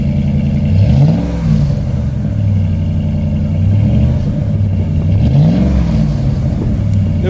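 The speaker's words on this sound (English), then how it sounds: "I wanted it a little bit louder, so I got the MBRP catback exhaust." A Ram pickup fitted with an MBRP catback exhaust idles with a deep, loud rumble and is revved twice, each blip rising and falling smoothly, with no voices.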